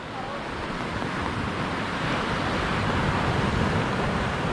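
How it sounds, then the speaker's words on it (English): Ocean waves breaking on Gota Beach near Caramoan, a broad continuous roar of surf with rising wash, steady and close, mixed with wind buffeting the microphone and no voices. "Here the waves."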